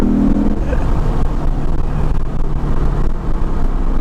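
A Lexus IS F's engine accelerates hard, a loud, steady, close-up roar holding a continuous low drone for several seconds with no talk over it.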